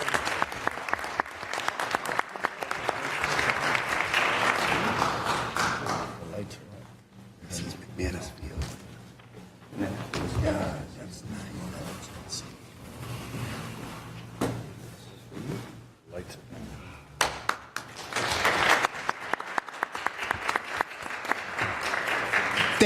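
Applause at a city council meeting in Lynn, a roomful of people clapping in waves: strong at the start, thinning with talk in between, then swelling again near the end.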